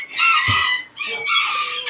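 Thai bantam chickens cluck and crow loudly and close by, a dense burst of overlapping calls with a brief pause in the middle.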